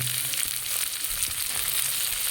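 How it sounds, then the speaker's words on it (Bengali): Finely chopped beans and capsicum fry in a pan with a steady, soft sizzle and crackle, fairly quiet and continuous, with occasional light stirring and no talking. "বিনসগুলো ভাজা হয়ে হয়ে এসছে এবার এর মধ্যে আমি দিয়ে দেবো এই যে কুচি করে রাখা ক্যাপসিকাম"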